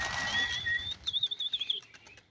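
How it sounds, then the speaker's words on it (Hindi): Rooftop pigeon flock of black-tailed Kaly Gandedar and mixed breeds in flight, with faint wing flutters and thin whistling tones fading into a quick run of soft clattering flaps at moderate distance. "इस टाइम तकरीबन 200-220-250 कबूतर छत पर उड़े हैं"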